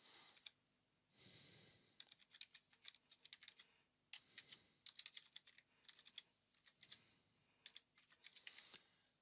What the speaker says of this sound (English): So here I'm just going to type in my email.